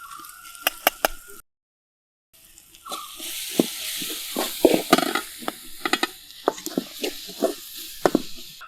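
Crushed ginger, garlic and fennel seeds frying in oil in a pan while making Kerala-style chicken curry, with soft sizzling and repeated sharp stirring scrapes and clicks after a brief pause.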